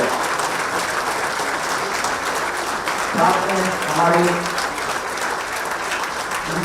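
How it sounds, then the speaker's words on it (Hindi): Loud applause fills a hall at a Jharkhand administrative service association event welcoming the chief minister, steady and dense throughout, with a voice speaking over it partway. "जोरदार तालियों से स्वागत किया जाए।"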